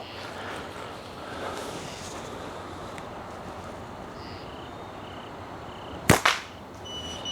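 A single sharp crack from a shot fired through a chronograph with glow-in-the-dark castle clips, rising out of steady outdoor wind noise and followed by a brief second burst.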